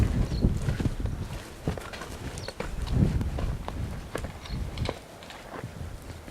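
Shorty the horse swings his hindquarters around, his hooves clip-clopping in a handful of close, uneven steps, with some low rustle and shuffling between the footfalls.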